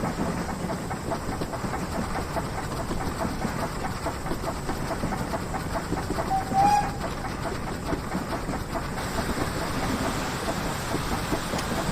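BR Standard steam locomotive 78022 runs on the Keighley and Worth Valley Railway, giving a steady, fairly quiet rumble of wheels and chuffing with a faint rhythmic rail clatter throughout and a brief high whistle-like squeal near the middle.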